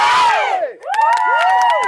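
A group of girls shouts and whoops in long, rising and falling calls as they arrive from down the road. The voices are loud and high, with cheering bursts and no ordinary talk.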